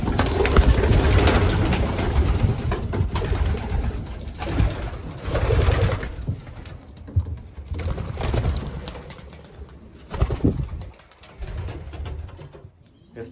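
Racing pigeons coo near a loft, soft repeated throaty calls in uneven bursts, fairly close, with no talking.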